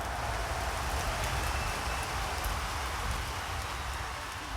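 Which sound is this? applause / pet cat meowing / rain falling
rain falling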